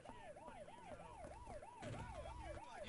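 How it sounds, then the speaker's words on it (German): A police car siren in the video game Bully wails in a fast, regular up-and-down cycle, clear and prominent over low engine and street noise that swells slightly toward the end. "Warte, hier ist noch das Polizeiauto."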